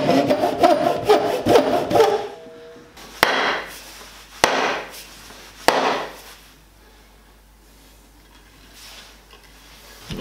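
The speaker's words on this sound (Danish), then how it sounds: "Det går super let med bugthøvlen, og man har masser af kontrol." Spokeshave cutting along a wooden axe handle: a dense run of scraping, rasping strokes at first, then a few sharp separate knocks and scrapes followed by near quiet, close and fairly loud.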